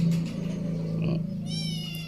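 A pet cat meows nearby in a home with other cats, giving a drawn-out call over a steady low hum. Another short, rising meow follows near the end.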